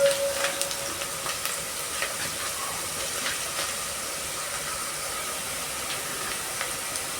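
Onions sizzle steadily in a hot pan while being stirred for a mutton pilau, a continuous close hiss broken by faint scraping clicks.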